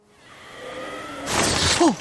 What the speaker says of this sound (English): just heard like a screech